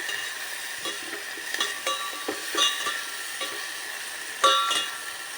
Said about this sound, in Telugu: ఇప్పుడు మనం శుభ్రం చేసి పెట్టుకున్న ఎండు రొయ్యల్ని వేసేసుకున్నానండి